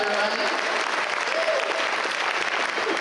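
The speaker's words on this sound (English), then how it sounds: "Give yourself a big round of applause." Dense, loud audience applause at a charity fundraising event for community and family services, steady clapping filling the room with a few voices faintly mixed in.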